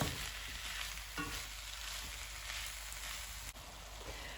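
Minced meat sizzles and fries in a pan for a cottage pie, giving a steady, close, crackling hiss throughout with a few faint clicks and no talking.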